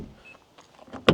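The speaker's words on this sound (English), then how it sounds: "The doors are not going to sound the highest quality." A Mazda 3 hatchback door shuts with a single short, hollow thud at the end after a brief quiet mechanical whir.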